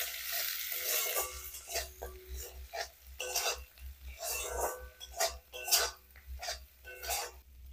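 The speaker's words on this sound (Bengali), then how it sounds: "সব ভালো করে কষিয়ে নেব।" Spices with garlic and onion sautéing in a pan with turmeric, chilli and Kashmiri red chilli powder, heard as repeated close scraping stirs and soft sizzling at a low level, with no one talking.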